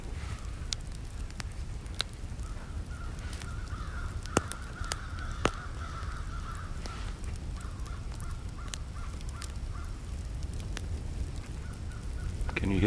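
Crows or ravens caw in the Black Forest, repeated harsh calls scattered across a steady outdoor background with a faint crackle like a campfire nearby; no one speaks.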